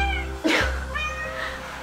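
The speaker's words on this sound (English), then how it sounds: "Look at this little cute cat." A small house cat lets out one sharp, close meow with a few faint, drawn-out mewing tones trailing after it, over a quiet indoor background hum.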